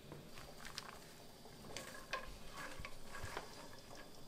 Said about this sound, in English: your peanuts are going to take anywhere from 8 to 10 minutes to fry up